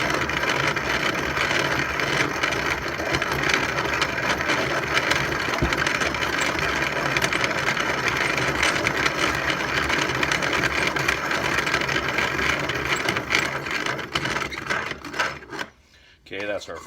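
A grain mill grinds wheat into cracked wheat with a loud, continuous gritty mechanical roar and a fast rattle throughout, then cuts out briefly near the end.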